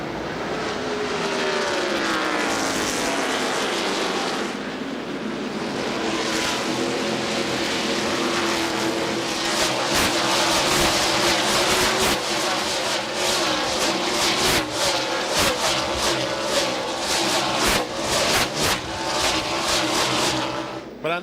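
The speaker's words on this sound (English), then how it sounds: "One thing Tony Stewart wanted to do was clear the 16 car of Kevin LePage before he got into turn 1" NASCAR stock cars roar around Martinsville Speedway during the 2000 NAPA Autocare 500. A dense, continuous engine drone rises and falls as the cars accelerate and pass, loud and sustained throughout, with a commentator's voice faint beneath.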